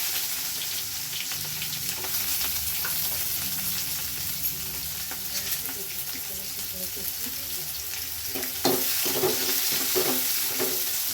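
Small garlic cloves sizzle in hot oil in a pan, a steady bright frying hiss running throughout with occasional stirring clatter near the end.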